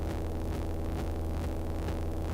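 Eurorack modular synth drone running through a wave folder, a dense continuous buzzing tone with a gently shifting rough texture, steady and sustained with no voices.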